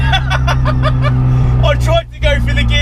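Screaming piped 200 bhp front-wheel-drive Toyota Starlet engine revving hard, a loud steady mechanical drone with a brief dip near the end, heard from inside the car.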